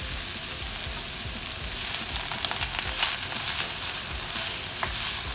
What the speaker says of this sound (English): all I'm going to do is just saute it